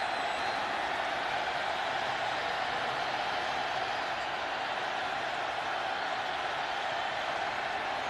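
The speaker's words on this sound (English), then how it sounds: "Crowd gets loud." A football stadium crowd at a Raiders at Seahawks preseason game rises into a steady, loud roar on third down, a dense, even wall of crowd noise with no distinct voices on top.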